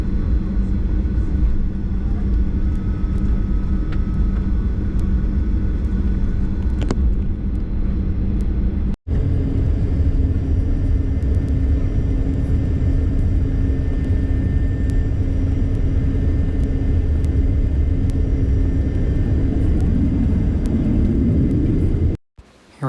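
Alaska Airlines 737-900ER taxiing at Seattle airport, a loud steady engine rumble and cabin hum that runs on continuously with brief cuts, no talk.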